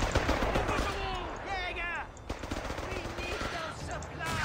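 Machine gun fire in the wartime strategy game Company of Heroes 3: fast, sustained automatic bursts heard close, mixed with other battle noise, while voices talk over the shooting.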